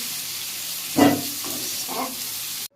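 Potatoes being fried in a pan during Bengali home cooking, a continuous hiss with two short bursts of louder sizzling as they are stirred, close by.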